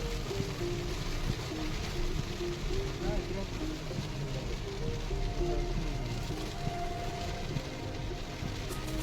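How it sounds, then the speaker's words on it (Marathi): Heavy rain pours steadily in Tirupati, a dense, constant hiss and patter drumming on surfaces throughout, loud and close with no break. "तिरुपतीमध्ये आलो आणि पाऊस सुरू झाला. जोरात."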